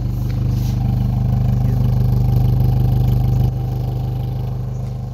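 A Mitsubishi Lancer engine idles steadily just after a cold start, a close, loud, even mechanical hum with a regular pulsing beat and no speech over it.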